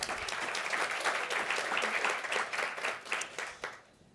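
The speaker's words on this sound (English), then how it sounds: "Please give a round of applause to our panelists." An audience at a tech industry panel event gives the panelists a round of dense, sustained applause that carries steadily before tapering off near the end.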